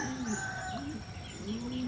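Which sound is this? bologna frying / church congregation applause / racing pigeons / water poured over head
racing pigeons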